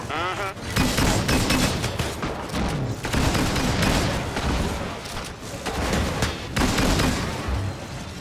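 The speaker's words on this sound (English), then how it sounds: "Taking fire!" Gunfire in the video game Disintegration: dense, loud bursts of shots and booming impacts that crowd together with brief lulls, sustained across the whole stretch.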